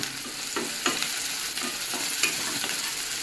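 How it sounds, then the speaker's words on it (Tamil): Onions fry with salt in a pan for a Tamil egg pepper fry, a steady sizzle under soft scraping strokes of a spoon stirring every half second or so, close and alone. "வெங்காயம் சீக்கிரமாக வதங்கிறதுக்காக கொஞ்சமாக வந்து உப்பு போட்டுக்கோங்க போட்டுட்டு கொஞ்சம் கிளறி விட்டுக்கோங்க"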